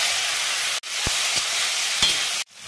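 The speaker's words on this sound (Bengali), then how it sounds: "কড়ার মধ্যে তেল দিয়ে, তেল গরম হয়ে গেছে, পাঁচ ফোড়ন শুকনো লঙ্কা দিয়ে দিলাম, তেজপাতা দিয়ে দিলাম" Elephant apple (chalta) pieces fry in hot oil in a wok with panch phoron, dried red chillies and bay leaves, making a loud, steady close sizzle broken by a few brief stirring gaps.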